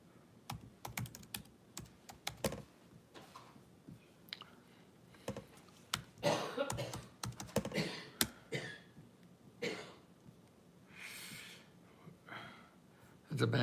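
Zip code digits being typed on a computer keyboard, rapid bursts of close key clicks with pauses between, a few louder clacks, and faint breathing sounds in the background.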